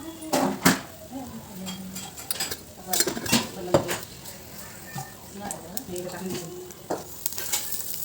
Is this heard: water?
yes